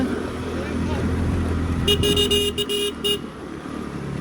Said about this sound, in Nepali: यस्तोमा चाहिँ गाइस तपाईँहरू पनि हर्न बजाउनु पर्छ